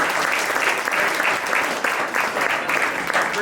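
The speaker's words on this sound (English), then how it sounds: "So big round of applause for guys." Scout families give a steady round of applause for the scouts at a Cub Scout Arrow of Light crossover ceremony, dense clapping that stays close and sustained with faint voices beneath.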